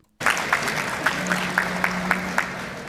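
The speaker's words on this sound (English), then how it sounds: "And everyone has to clap." Sudden applause bursts in and continues steadily, a dense wash of clapping from a crowd with a few louder, sharper claps standing out.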